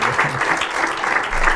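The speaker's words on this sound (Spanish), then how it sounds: "recibamos con un aplauso a Juan" An audience applauds to welcome a guest at a press and politics event, a dense, steady clatter of many hands clapping throughout a short burst.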